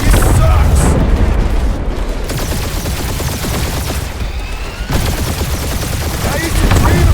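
Heavy space-battle gunfire and deep booming explosions from a Guardians of the Galaxy fight, a loud, continuous barrage of rapid shots over rumbling blasts, with voices shouting faintly beneath the din.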